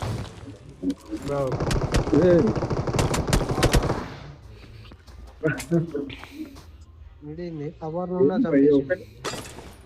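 AWM sniper rifle shots in a mobile battle royale game, sharp loud bangs with other gunfire and explosions in bursts, under excited talk from players.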